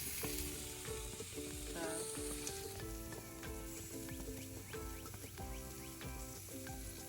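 Garlic parmesan chicken wings sizzle steadily in a pan, a dense, continuous hiss and crackle heard up close for several seconds.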